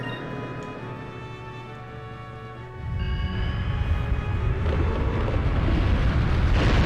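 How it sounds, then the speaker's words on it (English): A ship's main cannon fires in Skies of Arcadia, first a tonal charging hum, then a loud, sustained roaring blast that keeps building for several seconds. "I'm going to use the main cannon"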